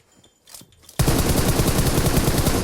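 Sustained automatic gunfire in PUBG Mobile bursts in suddenly after a quiet moment and continues as a loud, close, rapid rattle of shots.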